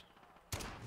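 Gunfire in Call of Duty Modern Warfare, a sudden sharp burst of shots landing halfway through after a quiet moment, loud and close with a ringing tail.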